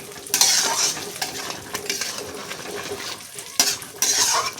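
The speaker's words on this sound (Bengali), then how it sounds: "এখন একটু মিশিয়ে দেবো, নাড়াচাড়া করে নেব" Taro stolon curry with shrimp, mustard and poppy seed stirred in a pan, a utensil scraping and clinking against the metal in uneven strokes with a soft sizzle beneath, close and fairly loud, no voices.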